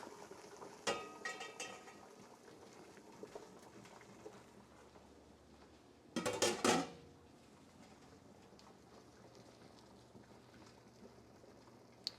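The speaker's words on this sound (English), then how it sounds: "We're going to turn the heat off, and we're going to take the lid off." A canning pot after processing strawberry lemonade concentrate, with a metallic clatter of the lid coming off midway over quiet room tone and a few small knocks and clinks before and after.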